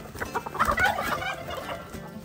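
Hens in a village poultry coop cluck close by at feeding time, a short burst of several quick, rising clucks over faint background noise.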